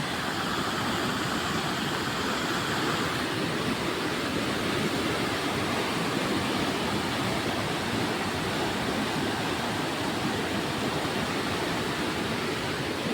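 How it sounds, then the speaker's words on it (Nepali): A loud, steady roar of rushing floodwater fills the whole stretch, continuous and close, with no voices over it. "एकदमै ठुलो खोला आइरहेछ।"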